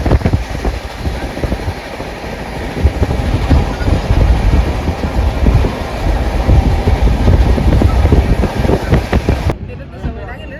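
A sleeper-class train carriage rolls steadily on rails with a loud, continuous rumble and clatter, joined by wind noise, before it drops away abruptly near the end.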